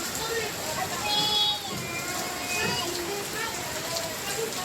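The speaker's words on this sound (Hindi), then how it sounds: "गाय देखो बेचारी कैसे बारिश में खड़ी है।" Steady rain patters on surfaces, a continuous hiss with scattered drips, a cow standing out in it, and faint voices murmur in the background.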